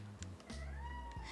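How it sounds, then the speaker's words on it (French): A house cat meows in a few drawn-out, rising calls with short pauses between them, close and fairly quiet, with no other sounds around. "c'est le chat du coup."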